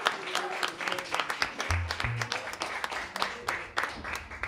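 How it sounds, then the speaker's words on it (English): Scattered clapping from a small crowd at a live music show, with loud close individual claps over a murmur of voices, whoops and low thumps beneath. "Please give a round of applause and a great thank you to Eric Stein, who's running the sound"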